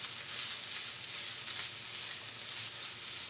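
Chicken pieces sizzle and fry in a pan while being stirred for chicken cannelloni in Alfredo sauce, a steady close hiss of spitting oil with no talk.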